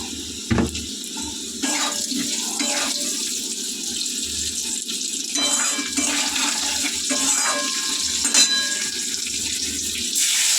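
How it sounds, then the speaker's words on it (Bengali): Water is poured into a fish curry frying in oil, making a steady, close rushing gush that runs for about ten seconds over a background sizzle, with no one talking. "এইবারে জল দিয়ে দেবো।"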